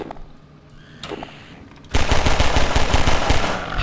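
Gunfire in the video game Half-Life 2, a couple of single shots followed by a loud sustained rapid automatic burst, close and dominant.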